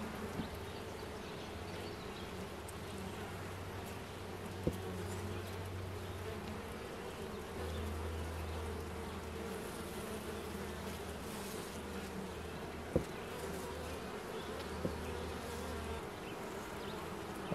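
A honeybee colony buzzes steadily in an open hive, a dense, continuous hum with occasional faint clicks, heard alone.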